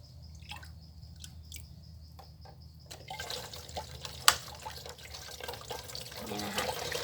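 Lime water being poured into a container to fill it, starting as scattered drips and splashes, then a steady, close trickling stream with one sharp clink midway.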